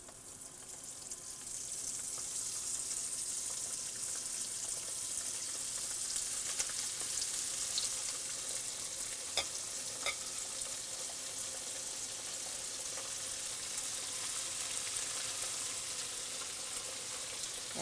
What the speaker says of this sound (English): we're ready to fry. You want to lower them into that oil gently